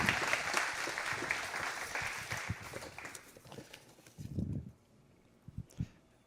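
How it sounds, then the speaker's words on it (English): Audience applause at a church and ministry seminar, a dense wash of clapping that fills the first few seconds, then thins into scattered claps and fades to near quiet. "So I think we should all give her a big round of applause."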